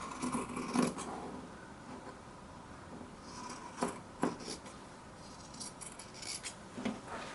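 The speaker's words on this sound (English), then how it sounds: "You go to the very edge of your quilt and you start cutting against the edge of your quilt" Scissors snip along the edge of a quilt in a few separate crisp cuts, spaced irregularly, fairly close but quiet, with soft rustling between cuts and no talking.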